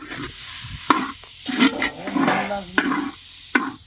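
Tomatoes fry and sizzle with masala in a pan for Chettinad egg curry, with steady crackling punctuated by occasional clicks and scraping of a utensil stirring.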